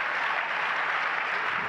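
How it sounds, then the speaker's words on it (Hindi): Audience at a Jain religious discourse clapping softly and steadily, a dense, even patter of many hands with no voices over it. "बहुत धीरे धीरे तालियां बज रही हैं"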